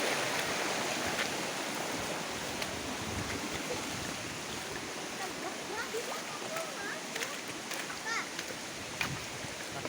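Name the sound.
floodwater flowing on mountain after rain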